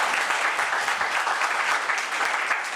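A church congregation claps together in steady, dense applause that fills the space at an even, fairly loud level, with no break and no distinct voices rising above it.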